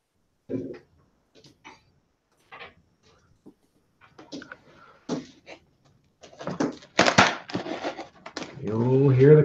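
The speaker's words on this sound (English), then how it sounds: "You'll hear the creaks in the wood there, eh?" Old wooden boat creaking at its moorings: scattered creaks, knocks and ticks of straining timber, sparse at first and then busier and louder, ending in a drawn-out, groaning creak.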